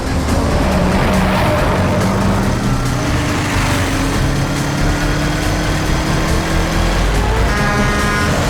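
A car drives hard with a steady, loud engine drone across the whole stretch, tire noise and a rising squeal suggesting a skid, set in a tense chase scene from a Hindi crime drama.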